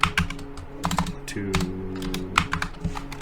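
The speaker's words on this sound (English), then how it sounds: "I just typed diffuser" Fingers type rapidly on a computer keyboard, producing close, crisp clicks in uneven bursts while someone talks quietly underneath.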